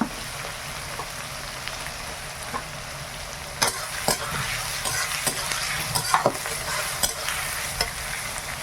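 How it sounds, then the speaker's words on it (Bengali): Onions fry lightly in a pan for a country chicken curry, a low, steady sizzle broken by frequent spatula taps and scrapes that grow busier in the second half. "পেঁয়াজটা হালকা করে ভেজে নিয়েছি"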